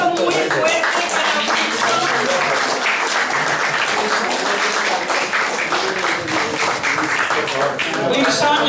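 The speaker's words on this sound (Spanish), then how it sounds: "Un aplauso muy fuerte para" Loud, sustained audience applause fills a poetry evening in Madrid after a payador's performance. Dense clapping continues without a break for several seconds, rising and falling slightly.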